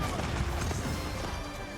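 Cannon fire and crashing destruction as a Great Wall Gatehouse is brought down in the Age of Empires IV video game, a dense continuous rumble of impacts and debris at moderate loudness.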